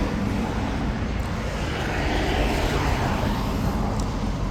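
A 2011 Ruud 3.5-ton, 13 SEER air conditioner condensing unit with a Copeland scroll compressor and ProTech fan motor runs outdoors, giving a steady, broadband whooshing hum with low rumble, constant and close, with no talk.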